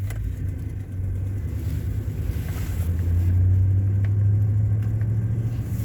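A car with a six-speed manual pulling away through a quiet neighborhood on a cool day: steady low engine rumble that swells gradually as it gains speed, fairly close, with no voices.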